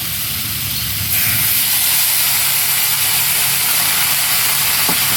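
Chopped onions drop into hot goat fat and set off a loud, steady sizzling hiss that jumps up after a second and carries on unbroken at close range.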